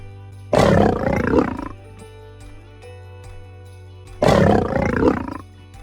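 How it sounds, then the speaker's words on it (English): A lion roars twice, each a loud, rough, rumbling burst lasting about a second, close and separated by a pause with a faint low hum, and no talk. "Lion"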